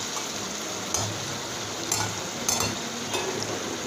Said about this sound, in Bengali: এখন শুধু ভালো করে এটাকে বেশ খানিকক্ষণ ভেজে নিতে হবে লো টু মিডিয়াম আঁচে